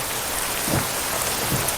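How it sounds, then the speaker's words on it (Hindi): Steady rain falls in a dense, even hiss on a surface, close and continuous through the short moment, with no voices over it. "बारिश भी होने लगी"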